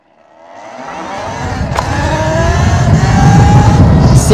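A Talaria Sting Pro 5500 motorcycle accelerates hard in its hard mode, its motor note rising in a climbing whine that swells from silence to a loud, steady roar close by.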